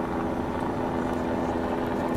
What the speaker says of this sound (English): And we still have this helicopter that is circling around.